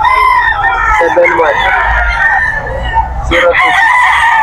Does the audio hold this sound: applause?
no